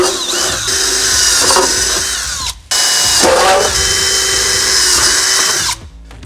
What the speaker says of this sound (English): we're going to do a rinse and repeat with drilling our holes in these pinch welds